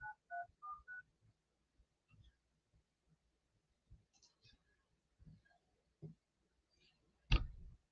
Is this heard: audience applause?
no